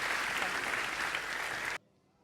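Audience at a live forum applauding guests invited on stage, a loud, steady burst of many hands clapping that cuts off abruptly to near silence after about two seconds.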